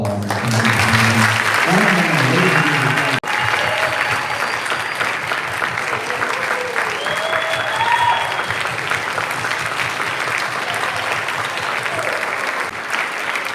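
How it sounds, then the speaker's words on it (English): Continuous crowd applause for jazz drummer Winard Harper at a jazz workshop symposium, full and steady clapping with occasional cheers, sustained well over ten seconds after a brief opening voice. "So can we give them one more round of applause?"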